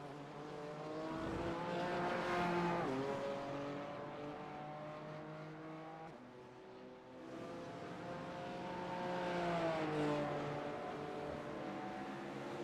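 A race car engine in a racing game lapping the Homestead road course, revving high and steady with rising and falling pitch as it shifts through gears and brakes for corners, loud and continuous with no talk.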